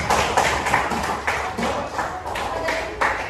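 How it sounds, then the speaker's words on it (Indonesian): A group in a classroom claps in a loose rhythm, distinct close claps landing roughly every third of a second with some talking mixed in. "Tepuk tangan."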